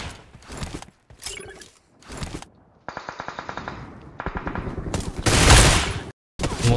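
Rapid automatic gunfire in a shooter video game, loud and close, coming in several bursts of fast rhythmic shots separated by short pauses, with a sharp, blasting burst near the end.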